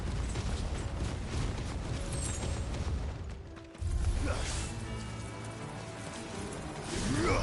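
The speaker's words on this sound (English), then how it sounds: "it's just raining around us" Steady patter of rain falling all around in the video game Final Fantasy XVI, with occasional mechanical creaks and clicks mixed into the downpour.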